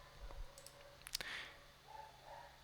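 Computer mouse clicks at a desk, a couple of sharp, faint taps close together around the middle, with small quiet desk noises before and after.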